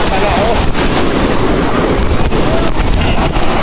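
Sea waves surge and wash steadily at Digha beach while a person wades in the water, a dense, continuous roar of surf blended with gusty wind buffeting the microphone, loud and close throughout.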